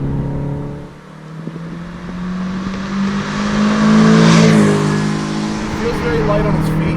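A 2003 Toyota MR2 Spyder with a 1.8 liter engine revs and drops through gear shifts, the engine note rising and falling under steady conversation inside the car.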